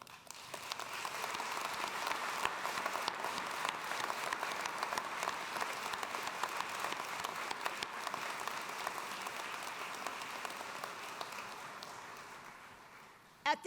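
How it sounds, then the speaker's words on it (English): An audience at a medical school commencement ceremony applauds steadily for the whole stretch, a dense, even wash of many hands clapping that fades sharply at the end. "Please join me in a round of applause for each other."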